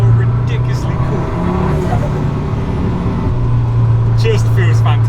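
A KTM X-Bow GT-XR driving on the road, its engine a loud low drone with shifting revs, heard under someone talking.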